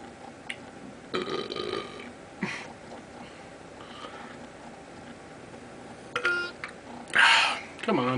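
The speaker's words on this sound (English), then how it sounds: "One good burp's all I need." Loud, close burps after chugging a 40 of Steel Reserve beer, several separate belches spread across the stretch with a long final one, a person speaking in between.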